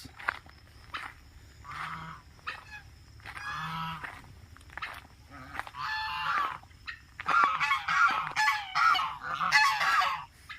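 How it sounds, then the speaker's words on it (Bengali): Geese honking repeatedly nearby in a park, loud nasal calls that grow into an excited chorus toward the end, with footsteps shuffling in between. "এখানে রাজহাঁস"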